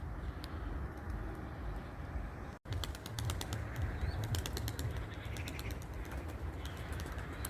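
A loft of young racing pigeons is heard in a steady blend of soft cooing and fluttering wings at close range, with light tapping and scrabbling noises throughout.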